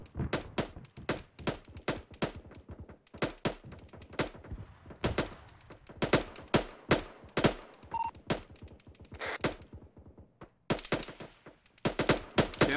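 Loud, close bursts of automatic and rifle fire ring out during a 15th MEU military ambush exercise. The cracks come in rapid clusters with brief gaps between them throughout.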